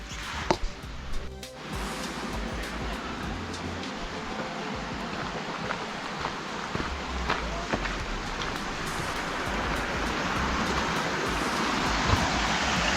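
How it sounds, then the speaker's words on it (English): Water splashes and rushes steadily nearby, a continuous trickling roar from a small fall that grows slightly louder over time. "It's a tiny waterfall."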